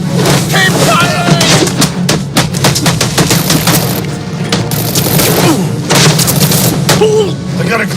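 Gunfire crackles in Batman: Arkham Origins, with rapid bursts of shots and heavy booms, loud and dense over a low rumbling bed, while voices call out between the volleys.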